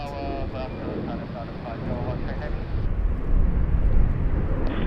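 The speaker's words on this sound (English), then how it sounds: "We've got a Qantas Link 717 arriving on runway 34 left." A QantasLink Boeing 717 airliner arrives on runway 34 left at Sydney Airport, its jet engines a broad steady roar that grows louder toward the end, with talk over it.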